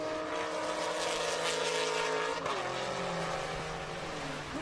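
GT race cars roar down the Road America straightaway, a steady high-pitched engine scream at moderate distance that shifts pitch as the cars pass, joined briefly by a second car.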